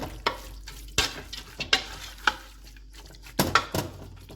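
A spoon scrapes and knocks around a pressure cooker pot of onion, garlic, whole spices and water for shami kabab, in irregular strokes, with a soft sizzle underneath and no talking.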